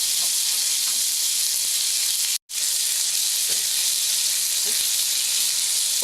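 Strip steak sizzling on a grill pan makes a loud, steady, close hiss with a few faint scraping knocks. A short cut to silence interrupts it partway through, and no one speaks.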